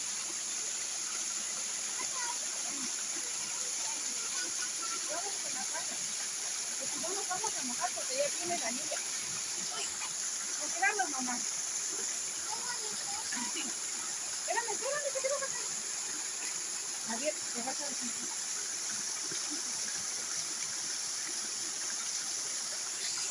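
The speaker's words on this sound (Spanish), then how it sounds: "Está bien bonito aquí la cascada" A waterfall on a ranch in Oaxaca rushes in a steady, even hiss throughout, with faint voices murmuring underneath.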